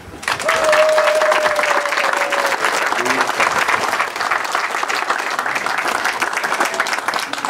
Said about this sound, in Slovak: zaslúži si to potlesk.